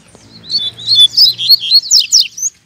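Small birds chirp in a rapid run of bright, high twittering notes out in the countryside, close and clear with almost nothing else around them.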